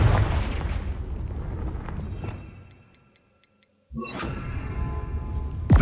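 Confringo fire spell blasts in Hogwarts Legacy: a rumbling burst that fades into near silence with faint ticking, then a sudden sharp blast followed by sustained crackling rumble.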